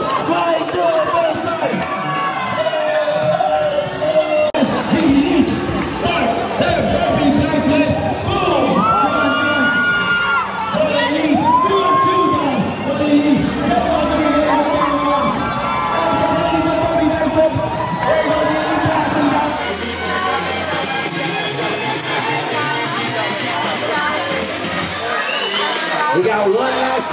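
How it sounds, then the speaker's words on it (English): A crowd at a Florida Grid League sports event cheers loudly for players, with sustained shouting, whoops and children's yells under and over an announcer's voice, and the roar stays loud throughout. "Round of applause for these awesome players."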